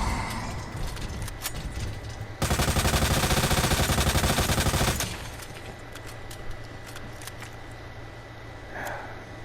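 Rapid sustained automatic gunfire in a video game, a dense loud burst of shots lasting a few seconds, set between quieter game ambience with scattered clicks.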